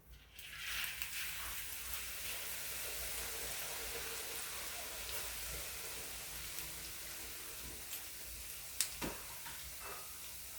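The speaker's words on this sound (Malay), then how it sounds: "Kita goreng sehingga garing." Finely grated sweet potato frying in hot oil, a soft continuous crackle and sizzle hissing steadily throughout, with a few faint clicks near the end.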